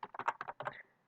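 Quick typing on a computer keyboard, about eight close, crisp key taps in a short burst, alone with no talk.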